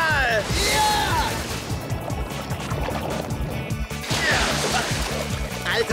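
A steep ocean wave rolls and crashes while cartoon characters surf, with sloshing, rushing water throughout and excited voices talking over it.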